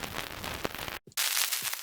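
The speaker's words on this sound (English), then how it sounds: "Next, I have this heavily distorted vinyl noise" Heavily distorted vinyl noise sample with most of the low end cut: dense, steady crackle and hiss that drops out for a brief gap near the middle, then returns just as loud.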